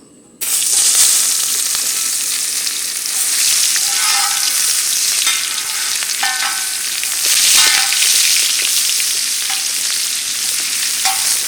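Chopped onion sizzling in hot oil in a village kitchen for chicken chow mein, a loud, steady frying hiss that swells at intervals as it is stirred, with no talk.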